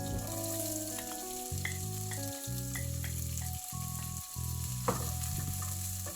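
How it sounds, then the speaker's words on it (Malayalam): Onion, green chili, ginger and garlic sauté in a pan with a constant loud frying hiss, broken by occasional stirring clatter, close and steady throughout. "സവോളയും പച്ചമുളകും കൂടെ ചേർത്ത് കൊടുക്കാം"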